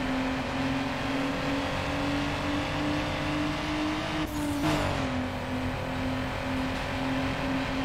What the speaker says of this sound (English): Underground 2 has so many different engine noises